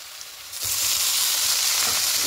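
Food frying in a pan for a restaurant-style pasta dish: a steady, loud sizzle rises suddenly partway through as the food hits the hot oil, then continues evenly up close with no talk.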